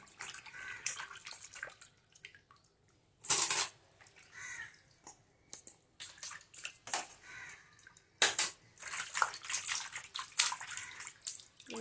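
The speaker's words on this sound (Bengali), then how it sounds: "মাছগুলো এখন ভালো করে ধুয়ে নিচ্ছি" Fish being washed under running water, with splashing, dripping and handling noises coming in irregular bursts and a few sharp knocks, close by.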